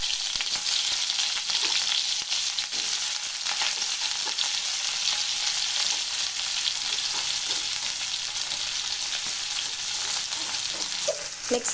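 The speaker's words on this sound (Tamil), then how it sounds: "கடுகு கொஞ்சம் நல்லா பொரிஞ்சு வரட்டும்." Mustard seeds crackle and splutter in hot oil for a semiya upma, a steady dense sizzle with scattered sharp pops throughout, close and fairly loud, with no talking.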